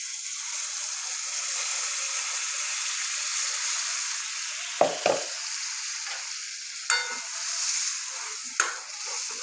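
Gravy added to a sizzling paneer curry in a pan, a steady frying hiss broken by several sharp stirring scrapes and splashes, close with no talk.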